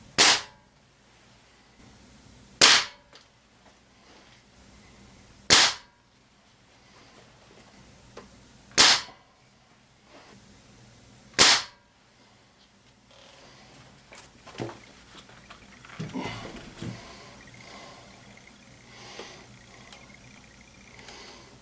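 Benjamin Trail NP XL1100 .22 caliber super magnum pellet rifle firing Crosman 9.5 grain alloy pellets, five loud, sharp cracks spaced about three seconds apart, followed by quieter handling clatter.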